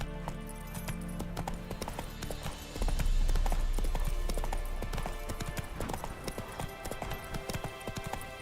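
Roach the horse gallops in The Witcher 3, rhythmic hoofbeats clip-clopping steadily under a low rumbling game soundscape that swells partway through.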